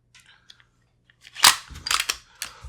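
Sharp metallic clicks and a sliding clack as an FN FNX-45 pistol is reassembled, recoil spring and slide going back on, a few close snaps after a quiet start.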